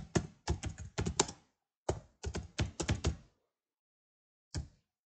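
Keystrokes on a computer keyboard while navigating Windows 11 settings, arriving in quick clattering bursts, then a pause and one last isolated tap, close and clear with no talking.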